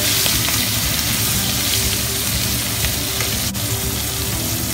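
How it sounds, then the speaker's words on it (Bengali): Prawns coated in salt and turmeric fry in a pan, giving a loud, close, continuous sizzle with a brief dip midway, with no voices. "চিংড়ি মাছগুলো নুন আর হলুদ দিয়ে মাখানো ছিল, তারপর ভালো করে ভেজে নেওয়া হবে।"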